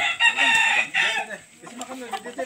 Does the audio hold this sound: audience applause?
no